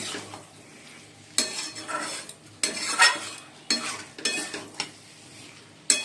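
Spoon scraping and clinking in a pot while red lentil dal (masoor dal) cooks on the stove, with several sharp metallic bursts separated by quieter gaps and no talk.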